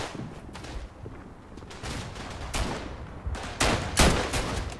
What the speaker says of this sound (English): I keep missing my shots now. I guess I'm doing something wrong with this rifle here.